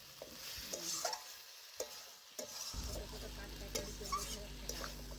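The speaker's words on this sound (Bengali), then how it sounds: "এইভাবে আমি বেশ কিছুক্ষণ ধরে নাড়াচাড়া করে সমস্ত কিছু একসাথে ভালোভাবে কষে নিলাম" Mutton, potato and papaya are stirred and fried in a pan with scraping spatula strokes and intermittent clinks over a low sizzle, which thickens into a steadier, denser frying noise partway through, all close and fairly quiet.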